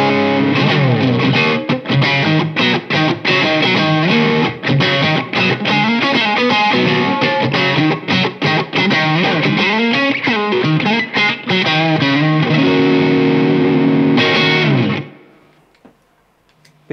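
Electric guitar played through a Boss SD-1 overdrive pedal, loud and close, with strummed chords and picked riffs carrying a warm driven crunch for about fifteen seconds before ringing out to silence.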